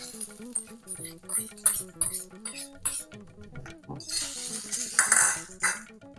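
A spoon works through curd rice topped with a tempering of green chilli, ginger, curry leaves and asafoetida, giving a run of uneven clinks and scrapes against a vessel, close and fairly loud, with a brief burst of wet mixing noise near the end.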